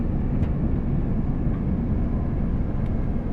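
A steady, dense rumble of a Class 802 train running along the track in the video game Train Sim World 6, continuous and fairly loud, with no voices over it.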